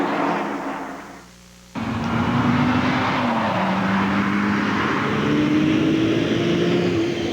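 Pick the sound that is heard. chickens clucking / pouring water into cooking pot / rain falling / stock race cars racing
stock race cars racing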